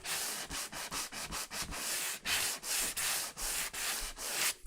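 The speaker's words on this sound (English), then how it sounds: "I'm going to take my sanding block again" Steady back-and-forth sanding strokes with a block, a rhythmic series of close, raspy scrubs with brief pauses between passes.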